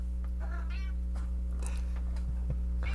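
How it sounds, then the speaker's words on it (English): A cat gives a few faint meows in a room, half buried under a loud, steady electrical hum. "Is that your cat"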